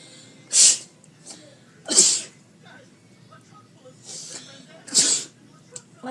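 Three sharp spray-like bursts from a water bottle, used to fake sneezes in a prank, come at a steady spacing over faint room noise.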